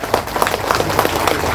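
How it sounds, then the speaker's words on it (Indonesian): Brief, rhythmic clapping from a crowd at a community gathering held by a city council member in Indonesia, with a few sharp claps in a steady beat. "Tepuk tangan dong untuk Pak Hendra ya."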